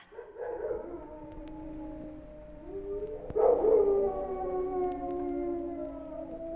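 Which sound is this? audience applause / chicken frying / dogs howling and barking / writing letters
dogs howling and barking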